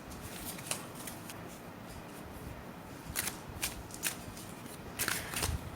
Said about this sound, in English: Right, I'm going to pick some cards. I'm going to do some tarot.